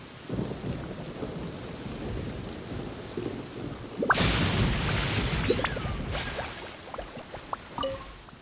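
A thunderstorm in the open-world game Genshin Impact: steady rain hisses throughout, then a sharp, loud thunder crack midway rolls into a long rumble, with scattered raindrop taps and splashes continuing afterward.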